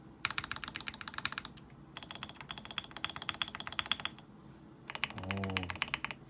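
Rapid bursts of space bar keystrokes on a Feker Alice 80 ergonomic gasket-mount keyboard clatter up close, in three runs separated by short pauses, with a low thud near the end.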